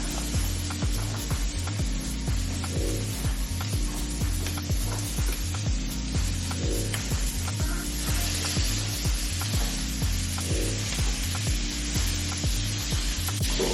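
Chopped onion and sausage fry in a pan, a constant close hiss and sizzle with a repeating rhythmic clatter underneath, no talking.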